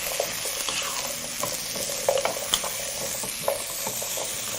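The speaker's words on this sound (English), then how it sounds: "once all your ingredients are in there, proceed to saute together" Vegetable curry ingredients sautéing in a pan over medium heat, a steady close sizzle with occasional scraping stirs and soft clicks of a utensil, no voices.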